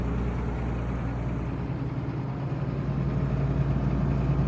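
A 1998 John Deere combine harvester with a 200 kW engine idles nearby, a steady deep diesel rumble with a low throbbing drone that holds constant and swells slightly toward the end.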